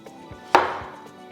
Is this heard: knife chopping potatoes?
yes